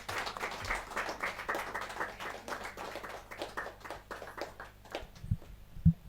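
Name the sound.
audience applause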